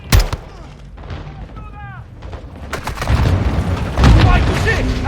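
Grenade blast in the Call of Duty Modern Warfare 2 campaign: a sharp boom opens, followed by rumbling battle noise with shots and low impacts, loud and close, while soldiers shout in French.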